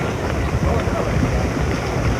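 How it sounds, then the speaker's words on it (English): Wind gusts and rain buffet the microphone at a 1986 Big East soccer final between Seton Hall and Syracuse, a loud, rough, continuous rushing roar with no clear pauses. "Here comes the wind and the rain again."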